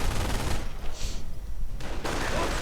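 German MG42 machine gun fire in a World War II strategy game, heard as dense, continuous rattling bursts that briefly thin out and then resume, loud and busy with battle noise.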